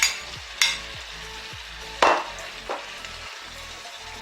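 Shrimp sizzle in a pan with pineapple, a moderate frying hiss broken by a few sharp stirring scrapes and clatters, close by and with no voices.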